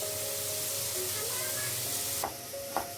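Onions sauté in a pan during beef curry cooking, making a loud continuous close sizzle with occasional scraping stirs and a couple of sharper clatters near the end.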